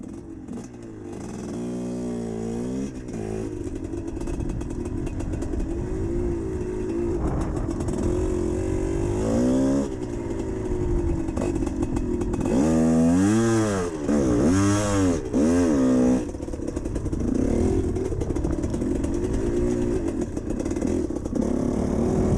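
A GPX TSE 250R motorcycle engine with a hydraulic clutch conversion idles and revs during off-road clutch work, its close, loud single-cylinder drone rising and falling in repeated surges for over twenty seconds.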